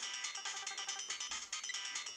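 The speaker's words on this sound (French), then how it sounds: "Oh, le téléphone!" Phone ringing in a video game: a bright, fast electronic ringtone warbling continuously, faint and alone.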